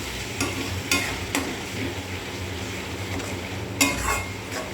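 Ground spices, including chilli powder, are stirred as they fry in a pan: a steady sizzle runs throughout, broken by several sharp utensil scrapes and clinks against the pan, with no talking.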